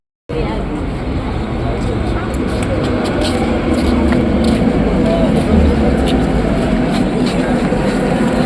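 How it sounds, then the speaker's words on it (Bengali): A Habra local train pulls into a station, its loud, steady rumble filling the whole stretch with high squeal streaks above, while people talk over it. "এই যে হাবড়া লোকাল সঙ্গে সঙ্গে চলে এসছে।"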